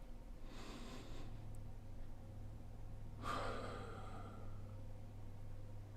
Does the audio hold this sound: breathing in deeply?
yes